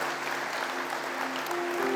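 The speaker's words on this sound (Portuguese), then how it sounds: "Quero convidar a igreja a dar uma salva de palmas a Jesus" A Portuguese-speaking church congregation gives Jesus a round of applause, a steady, full burst of clapping over a faint sustained hum, filling the whole moment without pause.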